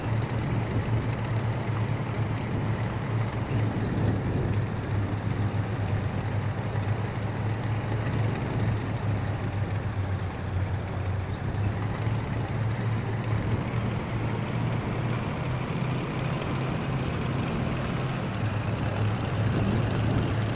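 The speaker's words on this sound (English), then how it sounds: "as I upshift each time, I'm just listening to the engine" Sherman Firefly tank engine droning steadily while driving and shifting up through gears, a loud continuous low rumble with a strong low hum and dense mechanical clatter throughout, no voices.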